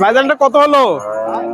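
A Friesian dairy cow at a cattle market moos loudly up close, one long drawn-out call that slides down in pitch, with a few words spoken around it.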